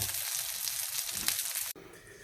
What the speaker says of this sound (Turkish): Evet köftelerimiz kızarma aşamasına geldi.